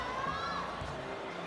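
A volleyball arena crowd at a women's China versus Italy match reacts with a steady, loud wash of voices and excited shouts, filling the whole moment.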